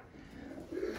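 Soft, low cooing of racing pigeons inside a loft, faint and continuous with one slightly louder coo near the end over a quiet room hiss.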